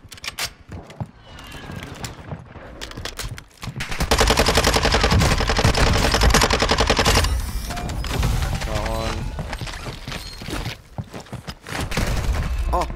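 Heavy automatic gunfire in a Warzone 2 firefight, loud sustained bursts rattling for several seconds, with scattered single shots, mechanical clatter and impacts before and after.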